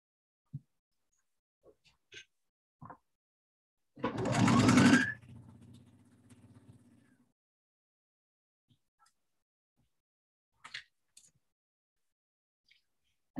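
A sewing machine runs in one short burst of stitching as bias tape is sewn onto a dress, loud and close. A few soft taps and handling clicks are scattered before and after it in otherwise near-silence.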